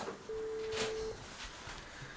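A telephone tone sounds as a call is placed, a steady single beep lasting just under a second. It is followed by faint background noise and is quiet overall, with no speech.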